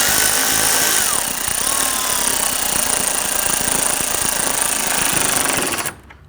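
Power tool runs in a steady, continuous buzzing drive for about six seconds, snugging fasteners on the active grille shutter of a Ford Taurus, then stops abruptly.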